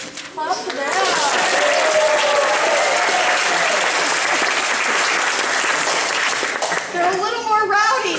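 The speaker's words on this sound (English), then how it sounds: "Clap for that." After a Christmas sing-along of a Santa Claus song, a crowd breaks into loud, dense applause that holds steady for several seconds, with voices, including children's, heard just before it starts and again as it fades.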